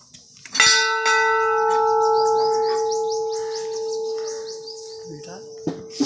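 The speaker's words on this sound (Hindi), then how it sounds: "घंटा को बजाएंगे हमारे दोस्त।" Bell at a Hindu goddess temple struck once, then again a few times, giving a loud, clear metallic clang with a long, ringing, steady tone that sustains and slowly fades, with faint bird chirps in the background.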